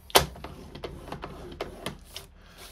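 Cardstock being scored with a tool on a scoring board: a quick series of soft scraping and tapping strokes, close and fairly quiet, in irregular rhythm.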